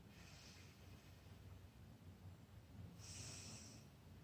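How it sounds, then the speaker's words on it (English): A person takes a slow, deep breath in a quiet room, with a soft airy inhale rising, a long hushed pause, then another breathy rush of air, all faint and close. "now take a nice deep breath"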